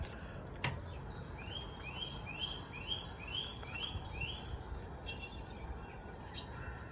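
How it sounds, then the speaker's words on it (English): Quiet outdoor ambience with a robin singing a short run of repeated, evenly spaced notes, with crickets and faint chirps in the background. "Do you hear the robin singing?"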